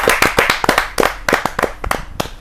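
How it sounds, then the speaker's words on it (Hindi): An audience at a Hindi poetry gathering claps to welcome a poet, a brief burst of sharp, uneven handclaps from a small crowd, close and loud, tapering off after a couple of seconds. "जोरदार ताली के साथ उनका स्वागत"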